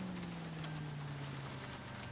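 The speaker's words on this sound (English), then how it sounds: "it is raining, that's for sure." Rain falls steadily in the video game L.A. Noire, a soft, even hiss with a low hum beneath it and no voices.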